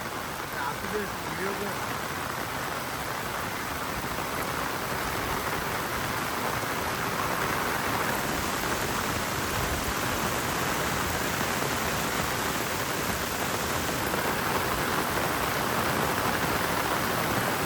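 Heavy rain pours steadily on a Konkan evening, a dense unbroken hiss that stays loud from start to finish.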